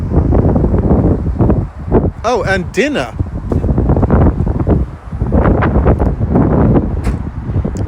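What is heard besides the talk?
strong wind blowing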